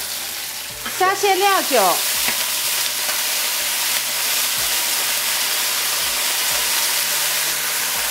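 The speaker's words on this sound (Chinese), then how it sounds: "把鸡肉炒至微微发黄，下入葱姜蒜" Chicken pieces stir-fry in a hot wok with scallion, ginger and garlic for chestnut-braised chicken, giving a loud, steady sizzle with a few spatula scrapes, while a voice speaks briefly near the start.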